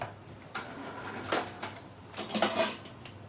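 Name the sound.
pot lid being handled while searching for the right lid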